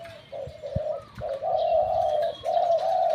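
Repeated low dove coos, some drawn-out, with a few fainter chirps from other birds in the background.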